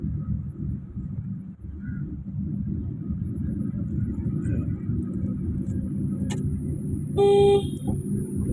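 A car horn sounds once, loud and sustained for about half a second, over the steady rumble of a car's engine and road noise during road driving practice.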